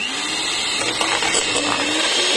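An electric whisk mashes bananas with a loud, continuous motor whir and a gritty, churning texture, holding steady at close range for the whole stretch.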